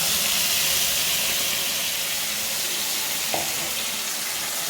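A ground tomato, chili and tamarind paste sizzles in hot oil, giving a loud, even hiss of frying that runs throughout, with one brief clink partway through.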